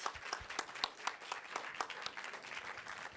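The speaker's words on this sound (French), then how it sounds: "Donc encore un applaudissement pour nous tous et nous toutes." Audience at a French festival closing session clapping, fairly sparse and uneven with distinct individual claps standing out in a moderately quiet room, no speech over it.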